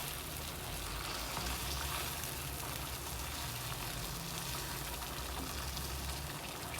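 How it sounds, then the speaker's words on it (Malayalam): Jaggery being stirred into a pan of Palakkad-style banana prathaman, giving a steady, continuous sizzling bubble with faint stirring underneath throughout, close and fairly even in level. "ഒരു കപ്പ് ശർക്കര നന്നായിട്ട് ഇതിലേക്ക് യോജിപ്പിക്കുക"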